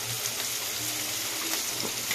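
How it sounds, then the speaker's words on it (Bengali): Carrot, capsicum and chilli fry in a hot wok over a high gas flame, giving a steady close sizzle with faint stirring scrapes and no voices. "লঙ্কা এগুলো ফ্রাই করে নিচ্ছি।"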